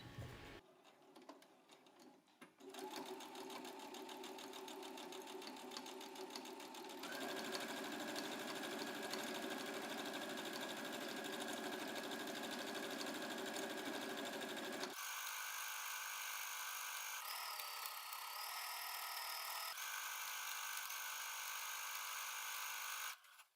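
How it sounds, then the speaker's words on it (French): A sewing machine stitches steadily around the lower hem of a dress, the motor whirring continuously and shifting pitch and speed several times over a long unbroken run. "On vient piquer à 1 cm tout autour du bas de la robe."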